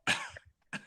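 A single sharp cough up close, followed by a short pause and a second rougher cough.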